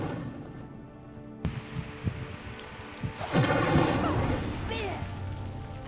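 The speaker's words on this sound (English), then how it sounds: "The flames make the pyre sink." The Incendio fire spell igniting a pyre in the video game Hogwarts Legacy, a sharp crackling burst that swells into a roaring, crashing rumble of flames over the game's background sound.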